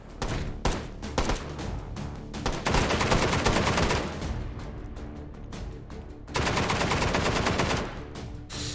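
An Ultimax light machine gun in the VR shooter Hot Dogs, Horseshoes & Hand Grenades: loud, close rapid-fire bursts, with a short burst, then a longer sustained stream, a pause, and another long burst.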